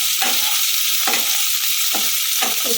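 Chopped spring onions sizzle loudly in a hot pan for chilli paneer, with a steady hiss broken by four or five rhythmic stirring scrapes and no voices.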